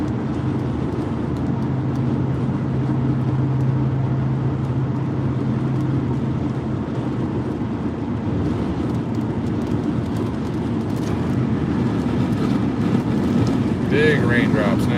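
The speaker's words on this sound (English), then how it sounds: "Big raindrops now." Heavy raindrops drum on a car windshield during a storm under dark Las Vegas skies, a dense, steady patter with a low road and engine rumble throughout. A voice murmurs faintly in the background.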